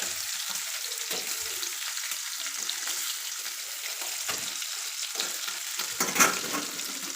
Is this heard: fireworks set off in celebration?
no